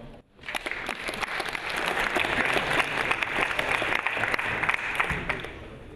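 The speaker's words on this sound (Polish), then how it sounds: "Posłuchajmy jego wystąpienia i bardzo duże brawo dla niego." An audience at a design and technology conference applauds a speaker from Adobe, with dense clapping that rises quickly after a brief pause and holds steady and fairly loud until the end.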